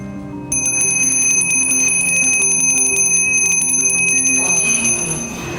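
A bright bell rings continuously for about five seconds, loud and close, its tone sustained with a shimmering, rapid ringing texture.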